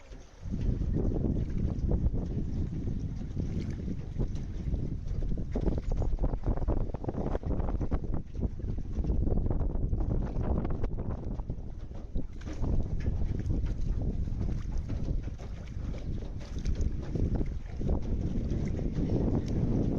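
Boat ride on the water in Vietnam: a steady, loud rumble of wind buffeting and water rushing past the hull, continuous for the whole stretch with no voices heard.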